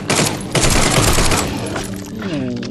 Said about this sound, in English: Let's try the submachine gun out.